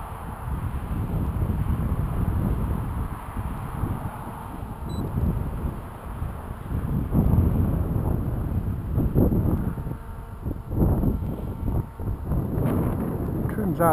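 Strong wind buffets the microphone during an FPV model aircraft flight, a loud continuous low roar and rumble with gusty surges, and a voice talks now and then beneath it.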